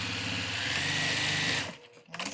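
A sewing machine stitching down the folded-under end of a pleated fabric face mask, a steady close mechanical whir for about a second and a half that stops abruptly, followed by a few light handling sounds.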